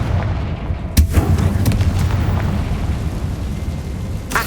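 Confringo fire spell explosion in the video game Hogwarts Legacy: a sharp blast bursts in near one second, then a dense low rumbling roar carries on, and a second crack lands near the end.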